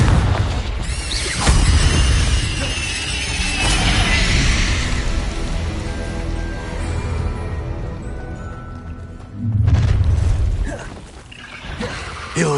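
Confringo blasting spells explode in Hogwarts Legacy, with two heavy booming blasts several seconds apart and rumbling, crackling magical effects between them, loud and close.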